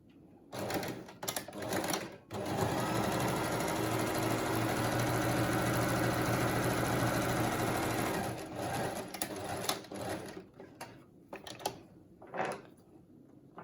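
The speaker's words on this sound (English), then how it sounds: "This is top stitching on the top." A sewing machine top stitching a fabric mask, a continuous whirring run of several seconds bracketed by short bursts of stitching and handling noises.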